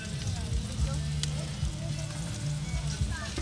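Onion frying in a pan for vaca atolada, browning with salt and garlic: a dense, even sizzle and crackle fills the clip, with a few soft stirring knocks and faint background hum.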